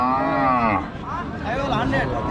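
A Sahiwal cow at a busy cattle market gives a loud, close, drawn-out moo that falls away, followed by shorter lowing calls with faint crowd chatter behind.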